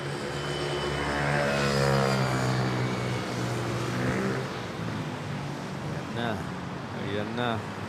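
A Cathay Pacific Boeing 777 and other airliners push back during the midday rush at Manila airport, with a loud continuous engine and propeller drone close by, while a voice talks over it throughout.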